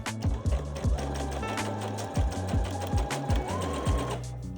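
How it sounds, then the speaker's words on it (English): A sewing machine stitches folded fabric ties, its close mechanical whir running steadily with a rhythmic chug of needle strokes that speeds up and slows in bursts, plus a brief rising whine near the end. "Fold your ties in half lengthwise and start sewing from one end, along the open edge."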